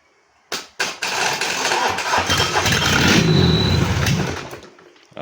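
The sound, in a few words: Mitsubishi 4D56 diesel engine starting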